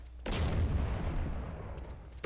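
A single gunshot rings out at a hospital door in the MTA DayZ online game, a sharp, close blast followed by a long rumbling echo that slowly fades.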